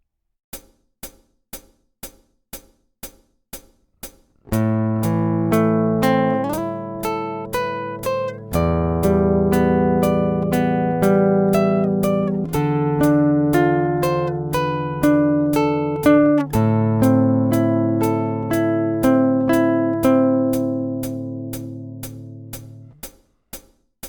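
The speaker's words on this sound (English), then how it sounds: "Let's bring all this together and play the last line of theme 1." Guitar plays the closing line of the first theme of a song, opening with a few light plucked notes, then ringing strummed chords and melody that build, sustain and fade out alone.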